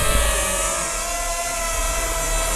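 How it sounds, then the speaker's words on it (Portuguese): A DJI Ryze Tello mini drone hovers right beside the microphone, its propellers giving a loud, steady high-pitched buzz with heavy wind rumble from the downwash, no talking. "ele faz uma enorme quantidade de vento."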